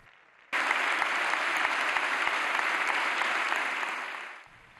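A parliament chamber breaks into sustained applause for the Ukrainian ambassador, a dense, loud clapping that starts abruptly, holds steady for about four seconds, then fades out.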